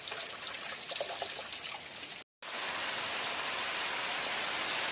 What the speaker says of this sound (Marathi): बघा आता एकदमच कमी आला असं असं आहे पावसाचं